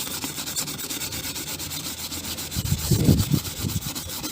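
Abrasive scrubbing of a printed design off a paint mug, a steady close rubbing texture that grows louder and more vigorous toward the end, with no talk.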